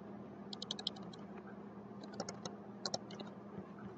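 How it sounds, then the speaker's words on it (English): Quiet computer keyboard with a few clustered light key clicks, spaced in short groups over a low steady room hum, no talking. "I simply backspace over and type in 2000"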